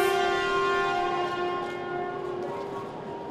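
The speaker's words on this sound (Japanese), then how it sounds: "今一番列車が東京駅をゆっくりと出発していきました。" Hokuriku Shinkansen Kagayaki 501, the first train of the day, pulls slowly out of Tokyo Station with a loud, steady tonal hum of electric drive and a ringing departure tone holding throughout.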